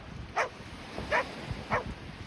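Dogs bark on a sunny beach walk at Scarborough Bluffs in Toronto, three short sharp barks at moderate distance over soft outdoor background noise.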